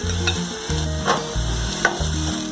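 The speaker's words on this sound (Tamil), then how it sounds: "நல்லா வதக்கிக்கலாம்." Onions sauté in a pan with mustard seeds already popped, a continuous sizzle broken by a few sharp spatula scrapes and stirs, close and fairly loud, with no voices.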